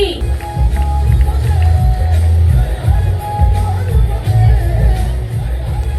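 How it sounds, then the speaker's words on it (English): A large crowd cheers and applauds loudly, with shouts and babble blending into a continuous roar. "Please give him a big round of applause."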